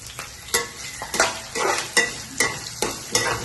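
Curry leaves, green chillies and spices frying in a pan for kara pongal, with a steady hiss under repeated scraping strokes of a spoon, loud and close, no talk.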